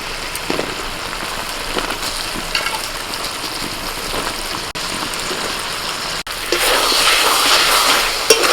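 Mushrooms dropped into masala that has been slowly roasted over a low flame, giving a steady hiss and crackle. The sizzle swells louder near the end, with no talking.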